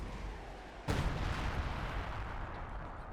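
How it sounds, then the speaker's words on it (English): A Brummbär assault gun fires a shell in a Company of Heroes 2 match, one sharp heavy boom cutting through the low battle rumble and leaving a long noisy decay. "The Broombar taking shots."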